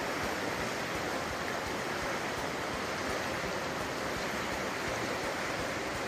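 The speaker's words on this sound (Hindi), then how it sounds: "Colorado River, see the current strength." Strong current of the Colorado River rushing through a forested Rocky Mountain valley, a steady, dense roar of flowing water that stays loud and unbroken throughout, with no voices.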